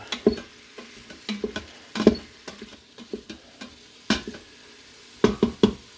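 Onions, peppers and bacon sautéing on a griddle, with frequent close clacks and scrapes of a spatula over a low sizzle, irregular and busy, no voices.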